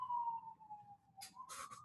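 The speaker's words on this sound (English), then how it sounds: "I'm sorry if we're going to get sirens. I'm in downtown DC and it is a little loud" A police or ambulance siren wails through downtown Washington DC, a steady distant tone that wavers in pitch and is briefly broken by short harsh bursts near the end, heard faintly alone.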